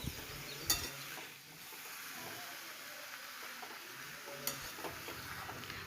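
Young jackfruit is stirred through a spice masala in a pan, giving a faint low sizzle with a couple of soft spoon scrapes against the pan.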